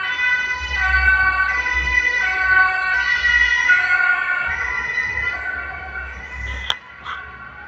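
An emergency vehicle's wailing siren sounds loud and close on a street in Brazil, rising and falling over engine rumble as it passes, then fading near the end.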